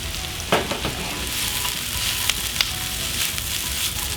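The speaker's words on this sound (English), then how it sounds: "we've julienne vegetables and now we get to use them in our saute." Julienned vegetables sauté in a pan over medium-high heat with a constant close sizzle and frying hiss, broken by a few soft clicks and stirs of a utensil.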